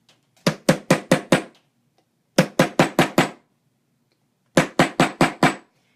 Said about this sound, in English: You put it right in the middle and you start hammering.